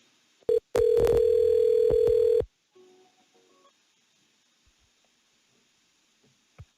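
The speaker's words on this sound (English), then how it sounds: "I'm going to make a call with my cell phone." A call placed from a cell phone through a softphone system: a couple of short tones, then a steady ringback tone for about two seconds, followed by near silence with faint clicks.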